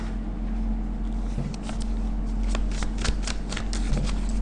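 Tarot cards being shuffled by hand in a steady run of crisp riffling flutters over a low steady hum, close and fairly loud with no talking.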